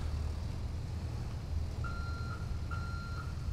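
A truck in GTA 5 reverses to hitch a trailer, its backup alarm giving repeated steady beeps over a low idling engine rumble, with no talk.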